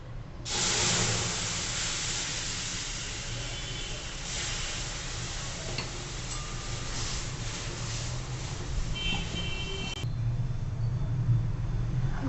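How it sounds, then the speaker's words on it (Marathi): Boiled milk poured onto roasted rice rava in a pan over a low flame, giving a steady hissing sizzle that carries on evenly throughout without any talk. "आता आपण त्यात उकळलेलं दूध एकदम न घालता अगोदर थोडंसं टाकून घेऊ आपण"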